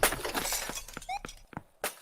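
Glass shattering in the driving game Ridgeway County, a burst of breaking and tinkling shards followed by scattered clinks and thumps, fairly quiet against a busy background.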